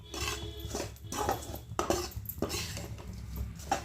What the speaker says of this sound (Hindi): ये मखाना जो हमने रोस्ट किया था, ये भी इसी में डाल देंगे, और इसको भी धीमी आंच में भूनेंगे अच्छे से